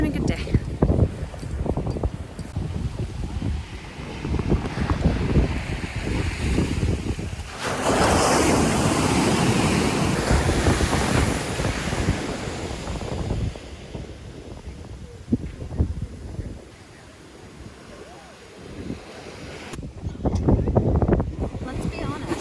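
Ocean waves washing onto a beach in Aruba at sunset, a steady broadband surf wash with wind buffeting the microphone, swelling louder for a few seconds midway; people talk faintly in the background.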